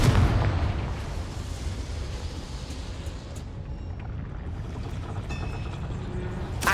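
Confringo blasting spell from the video game Hogwarts Legacy: a loud, dense explosive burst at the start that settles into a sustained rumbling roar lasting several seconds, with crackling debris near the end.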